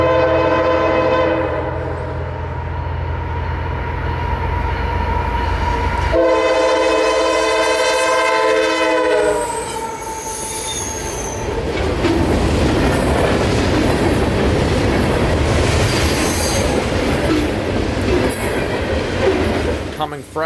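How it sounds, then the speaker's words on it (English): CSX freight train Q581, a daily mixed freight, passes loud and close with a blaring, harsh multi-tone horn that cuts off, followed by the heavy rumble and clatter of cars rolling by. "the headlight of Q581 finally rounds the corner to pass us here, with what we would believe to go down as the train with the worst horn of the trip."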